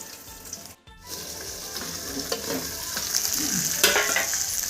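Loud, steady sizzle of tilapia fish frying in hot oil in a pan, nearby and continuous, with a few clinks and stirring noises and a brief dip near the start.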